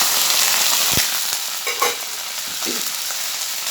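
Chopped onion and a little chicken sizzling in hot oil in a pan, a loud continuous close fry with a sharp knock near the start and a few scrapes of a spoon, no talking.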